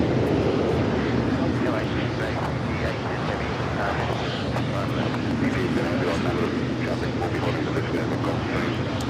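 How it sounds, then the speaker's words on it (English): A China Airlines cargo Boeing 777 freighter touches down on the south side at LAX, producing a loud, steady jet roar that fills the whole stretch without a break. "just had a China Airlines cargo 777 freighter just touching down here on the south side"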